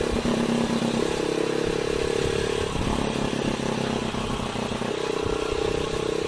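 Rusi Classic 250 motorcycle riding on the road toward a service shop, its engine droning steadily and loudly throughout with shifting tonal bands as it changes pace, wind rumble mixed in, no talking.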